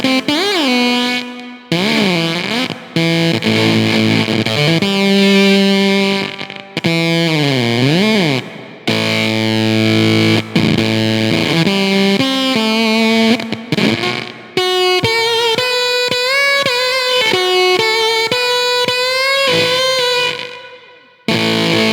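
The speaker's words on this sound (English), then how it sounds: "this is the sound of the Cuvave doing a bit of the velcro rip" Cuvave fuzz pedal on electric guitar set for a gated, sputtering velcro-rip tone, playing a continuous run of loud, harmonically dense, bending phrases with abrupt cutoffs between notes and no talking.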